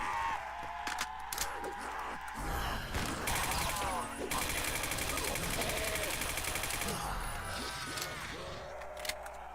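AK rifle gunfire in a zombie shooter game, rapid bursts of automatic shots rattling in a dense stretch mid-clip, with game sounds and faint talk around them.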